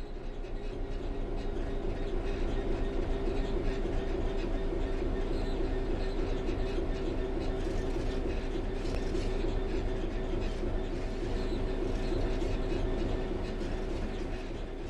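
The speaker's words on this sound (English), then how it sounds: "The train will then coast on level ground, and the train will only slow down very gradually." A train coasting on level track in Train Sim World 3 gives a continuous loud rumble with steady clickety-clack from the wheels and a faint squeal, unbroken for the full stretch, with no talk.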